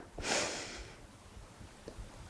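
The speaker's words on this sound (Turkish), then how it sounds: "Şöyle bir burnunuzdan nefesinizi ciğerlerinize doldurup" A single deep breath drawn in through the nose, close and fairly loud, rising quickly and fading within about a second, followed by quiet room noise with no talking.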